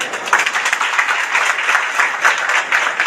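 Steady applause from an audience at a speaking event, dense clapping with no break, close and loud throughout.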